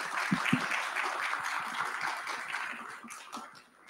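An auditorium audience claps together after a talk on academic careers, a dense patter of many hands that tapers off and fades toward the end.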